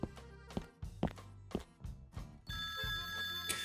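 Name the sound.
telephone ringing in the video game Terrors to Unveil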